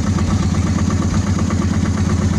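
Close, steady idle of a 2003 Honda Shadow Spirit 750 motorcycle engine running mostly on one carburetor, a low rumbling putter that continues evenly without speech.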